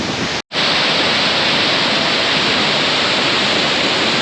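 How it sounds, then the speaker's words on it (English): A dense, constant roar of a waterfall crashing down on Babeldaob, Palau, loud and close, with one very brief dropout near the start. "there's a lot of water coming down here"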